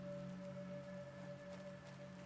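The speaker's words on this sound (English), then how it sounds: "Oh, we got rain, which means the lake's going to even get higher." Steady soft rain falls across an open outdoor area in the survival game Planet Crafter, a continuous hiss beneath a sustained tonal hum, with no one talking.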